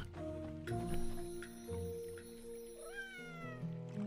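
A cat in the farming game Coral Island gives a clear, drawn-out meow with rising and falling pitch over soft background music.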